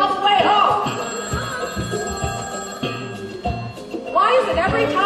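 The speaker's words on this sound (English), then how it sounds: "the phone rings?" A telephone bell ringing during a live Broadway stage performance of the musical Hairspray, a bright trilling ring heard in two bursts over music and voices on stage.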